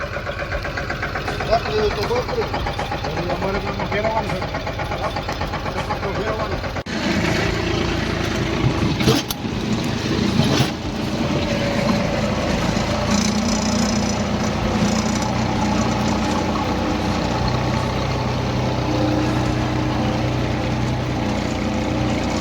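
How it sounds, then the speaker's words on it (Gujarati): Two tractors rumble and idle continuously during sowing, with a louder surge partway through and voices talking over the steady drone. "એક હારે 2 ટ્રેક્ટર"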